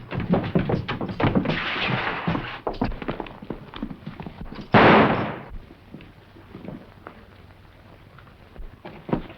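Gunfire in a 1940 western film: a single loud sharp report cracks out midway, preceded by clopping hooves and scattered knocks, then fading rumble and softer thuds.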